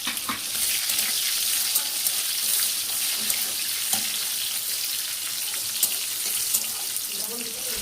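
Tomatoes frying in hot oil with whole garam masala and dried red chillies for alur dom, a steady close sizzle with faint clicks and stirring scrapes, no talk.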